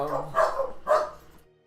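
A human voice imitates dogs barking, with two quick, close bark-like yelps in a row.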